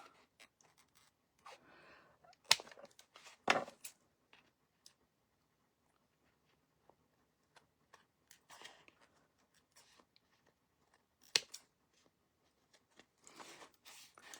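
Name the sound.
cutting material for a thrifted frame craft project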